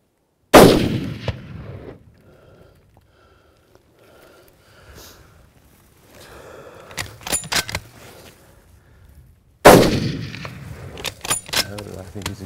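Two loud, sharp rifle gunshots ring out while hunting, one near the start and another about nine seconds later, each with a long decaying echo, with quiet murmured talk and rustling in between.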